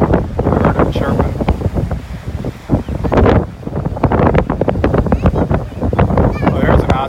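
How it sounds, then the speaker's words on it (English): Strong gusty wind at Delnor-Wiggins beach in North Naples, Florida, pounding the microphone in loud, irregular low bursts for several seconds, with muffled voices partly buried beneath it. "It's really windy."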